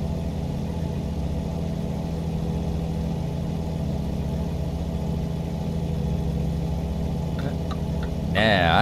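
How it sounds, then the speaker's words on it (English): A heavy truck engine in American Truck Simulator drones steadily and loudly throughout, a low continuous growl, with a brief rise in noise at the very end. "Listen to that engine growl."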